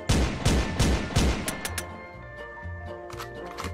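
Rapid gunshots in the first-person shooter SpongeGlock SquarePants, a run of five or six loud, punchy shots in the first second and a half, followed by a few quieter bursts over game music.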